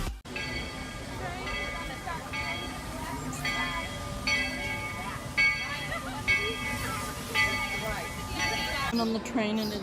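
The Magic Kingdom Railroad train runs with a steady rumble and rhythmic clatter, a ringing tonal note repeating through it, and a voice speaking briefly near the end.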